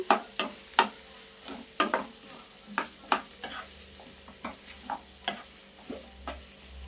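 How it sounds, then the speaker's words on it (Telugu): Onion and fish curry mixture being stirred in hot oil, a rhythmic series of sharp spoon scrapes and clacks over a faint sizzle, close and clear with no talk. "ఒకసారి దీన్ని కలిపేసుకుందాం బాగా నూనెలో."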